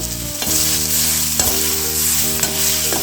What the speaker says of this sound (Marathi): कांदा टोमॅटो छान परतण्यासाठी मी यात थोडं मीठ घालत आहे